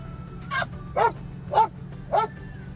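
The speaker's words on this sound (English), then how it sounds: "if any of you are wondering if he still barks, that is a yes" A dog barks four times at close range, each bark short and evenly spaced about half a second apart, over a steady low hum.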